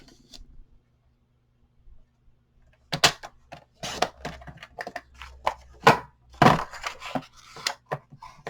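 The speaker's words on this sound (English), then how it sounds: "Now we're going to cut this 1/2 inch off." Clear plastic scrap is cut, trimming half an inch off a crafting piece, heard as a series of crisp close snips and crackles in irregular bursts after a quiet start.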